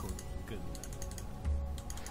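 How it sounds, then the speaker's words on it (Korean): Loud, rapid clacking of a computer keyboard during a League of Legends match, steady keystrokes close up with a voice speaking over them. "키보드 하나 새로 살려고요 소리가 너무 커가지고"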